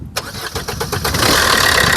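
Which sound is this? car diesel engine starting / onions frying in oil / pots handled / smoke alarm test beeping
car diesel engine starting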